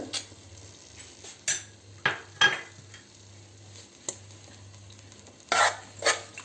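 Mutton being stirred into an oil and yogurt masala in a pot for seeraga samba biryani, with a spoon scraping and clanking against the metal in separate bursts over a faint sizzle.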